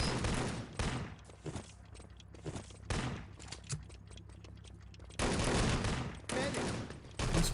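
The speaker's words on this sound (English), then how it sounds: "Backing off the fadeaway MP40 shots." MP40 submachine gun fire rattles in the video game Enemy Territory during a competitive match, with dense, loud bursts at the start, scattered shots in the middle, and another sustained burst near the end.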